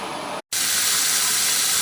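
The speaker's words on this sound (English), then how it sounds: "Alright, steady stream up from the hot water tank." Hot water from a hot water tank runs in a steady, loud rushing hiss, interrupted by a brief cut near the start before resuming as an even, continuous stream.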